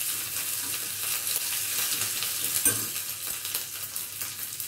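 Ginger fries in hot oil in a pan with a continuous, bright crackling sizzle, close and steady, with faint stirring scrapes and no voices.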